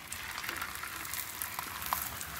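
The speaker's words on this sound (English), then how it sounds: "It's almost like the idea of a shallow fry" Low-carb tortilla shallow-frying in a thin layer of oil on a flat-top griddle set low, a soft steady sizzle with light crackles throughout.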